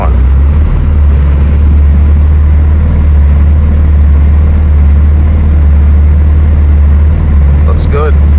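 Mitsubishi Evo 8 engine idling with the air conditioning on, a loud, steady low rumble holding an even note throughout, with a faint higher whine briefly near the end.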